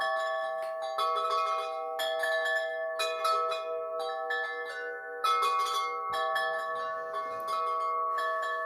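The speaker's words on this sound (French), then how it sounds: "c'est mon petit carillon qui est dans mon bureau" Small office chime ringing a sequence of clear metallic tones, each struck note sustaining and overlapping the next in a slow melodic pattern, alone and moderately loud.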